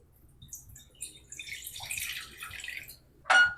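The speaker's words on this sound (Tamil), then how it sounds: "இப்போ இதில் தண்ணி ஊற்றிக்கலாம்." Water is poured into a cooking pot for a drumstick-leaf buttermilk curry, a faint, soft splashing stream lasting a couple of seconds, followed by a brief louder splash or clink near the end.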